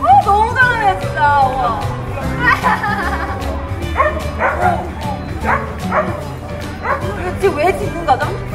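A border collie barks repeatedly in short, loud bursts at a pet talent contest, with a crowd and children's voices chattering throughout.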